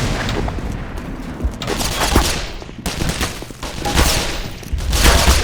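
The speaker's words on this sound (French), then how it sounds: "I'm throwing a grenade!" Dense gunfire bursts and an explosion from a grenade in the first-person shooter Black Mesa, loud and continuous, with rapid shots and booms layered over one another throughout.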